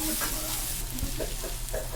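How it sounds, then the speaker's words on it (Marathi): A medium-ground green pea mixture is sautéed in a pan, a close, continuous sizzle with soft scraping strokes of a spoon stirring through it. "सगळं मिक्सर दोन ते तीन मिनिटासाठी आपण हे मिश्रण परतून घेणार आहात"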